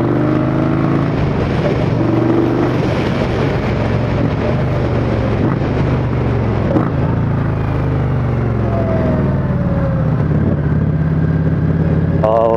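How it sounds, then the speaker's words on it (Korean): An Indian Scout Bobber Twenty motorcycle's DOHC engine revving high during a test ride, a loud continuous drone with rising and falling pitch, heavily buffeted by wind noise throughout. "이렇게 고회전으로 넘어갈수록 DOHC 엔진의 그러한 소리가 두드러지게 나는 것 같습니다"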